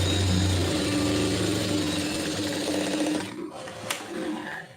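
A sewing machine stitches a lining blouse in a beginner's tailoring lesson, running in a steady loud whir for about three seconds before stopping, followed by a few quieter handling sounds.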